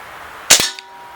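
A Crosman M4-177 multi-pump .177 pellet air rifle fires one sharp, close crack, followed by a faint pellet impact a moment later.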